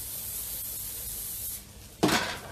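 A short hiss of cooking spray onto a pan, heard after a stretch of low steady sizzling from garlic and red onions frying.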